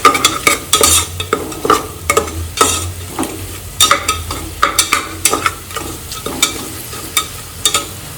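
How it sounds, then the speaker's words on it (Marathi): Turmeric frying in oil with onions while being stirred briskly, loud and close: rapid rhythmic scraping strokes over a steady sizzle, with no talking. "हळदीला पण छान तेलामध्ये फ्राय करून घ्यायची"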